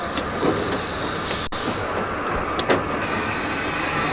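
Railway carriages rolling along a British heritage line behind a steam train, a continuous close rumble and rattle of wheels on track with a few sharp clicks and brief squeals.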